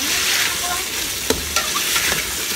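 Pork with bone and meat, seasoned with fish sauce and black pepper, frying in a pot for sinigang: a loud, continuous sizzle with a few stirring scrapes.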